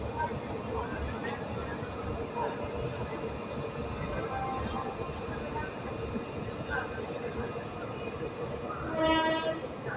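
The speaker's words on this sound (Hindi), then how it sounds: "ट्रेन हमारी पहुंच चुकी है कानपुर सेंट्रल रेलवे स्टेशन" Sampoorna Kranti express 12394 rumbles into Kanpur Central railway station in the rain, a dense steady rolling clatter with a brief horn-like tone near the end and faint background voices.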